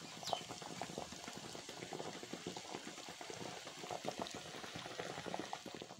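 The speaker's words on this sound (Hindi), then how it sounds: "तो अभी पानी उबल रहा है, अंडा भी यकीनन 2 मिनट में तैयार हो जाएगा" Water boils in a pot with an egg cooking in it, a continuous dense bubbling and rattling at a fairly quiet, even level.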